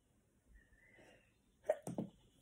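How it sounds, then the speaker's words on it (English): A single quick sneeze bursts out after a quiet stretch, short and close, with a brief breathy tail. "Oh, sorry, just sneezed."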